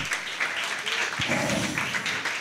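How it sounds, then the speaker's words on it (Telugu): Audience clapping at a Vedic education gathering, a soft, steady patter of many hands, fairly distant and even, with a brief low thump partway through. "నేను చెప్తుంటే మీకు చప్పట్లు బాగానే కొడుతున్నారు"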